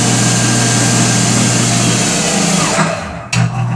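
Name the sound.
1965 Monarch 10EE lathe motor stopping with dynamic brake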